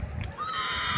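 A Panchkalyan mare at a horse show gives a short, close whinny, a brief high neigh rising out of faint background noise.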